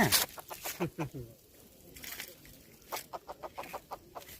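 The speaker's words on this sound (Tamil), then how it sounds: "சூப்பராக கத்துதுப்பா கிச்சான்" A freshly caught kichan, a crescent grunter, makes repeated short croaking grunts in irregular bursts, fairly near, with a pause in the middle before a quicker run of calls.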